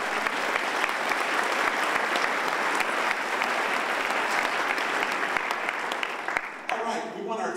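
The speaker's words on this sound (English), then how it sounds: "let's give our elected officials a round of applause" Sustained applause from an event crowd honoring elected officials, steady dense clapping filling the room for several seconds before tapering off at the end.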